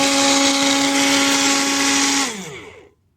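A MIAOKE portable mini personal blender runs loudly with a steady high motor whine, then spins down and stops after a couple of seconds.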